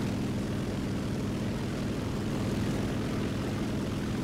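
A propeller airplane engine in the combat game War Thunder drones loud and steady throughout, a dense continuous roar with no breaks or voices.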